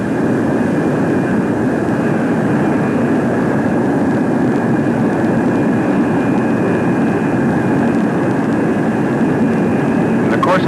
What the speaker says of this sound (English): now let's watch the high-speed taxi run.